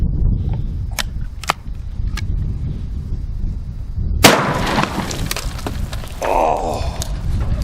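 Shotgun loaded with 3-inch Magnum buckshot fired outdoors while destroying targets: a few sharp distant cracks, then one louder blast followed by shattering and clattering debris over a steady low background rumble.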